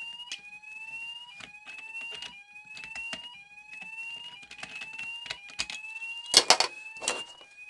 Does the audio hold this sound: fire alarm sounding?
yes